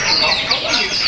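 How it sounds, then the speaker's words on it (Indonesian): Small songbirds at an Indonesian bird singing contest chirp in rapid, overlapping high twitters amid a busy crowd murmur, with people talking nearby. "Ini tiga burungnya, panggil."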